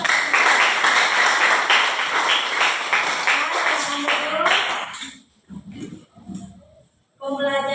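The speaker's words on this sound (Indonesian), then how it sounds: "Tepuk tangan dulu untuk kita." A classroom group claps together after a breathing exercise, a dense burst of applause for about five seconds that then breaks off into scattered quieter sounds and a brief voice.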